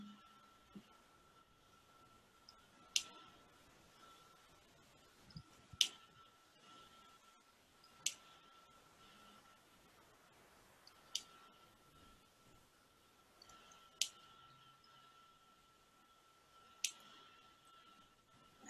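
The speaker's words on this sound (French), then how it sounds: "Et je découpe des petits carrés. Des petits carrés avec mes ciseaux." Scissors snipping paper into small squares, a series of sharp, quiet clicks spaced a few seconds apart against a faint steady hum.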